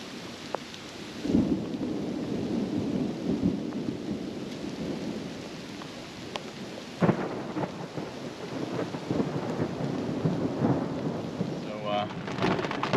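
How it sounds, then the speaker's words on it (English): Heavy monsoon rain pours steadily around a parked Jeep while thunder rolls and cracks several times, the storm loud and continuous with no talk. "it's raining pretty hard right now"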